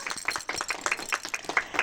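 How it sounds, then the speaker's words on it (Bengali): A small group claps, a short burst of quick, uneven handclaps close by with no talk over it. "হ্যাঁ, হাততালি দাও।"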